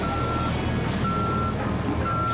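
A truck throwing itself into reverse sounds its backup alarm, a steady series of evenly spaced beeps over a loud, continuous engine rumble.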